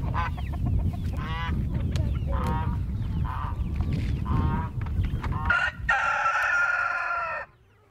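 Homestead hens cluck and squawk in a loud, busy chorus close by, with repeated calls overlapping one another, and a long rooster crow or honking cry rings out near the end.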